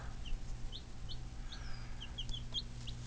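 Newly hatched baby chicks in a homemade incubator, peeping in short high chirps scattered across a few seconds, faint over a low steady hum.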